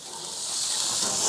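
A steady, close hiss of steak sizzling on a hot grill, growing slightly louder over a second or so, with no voices.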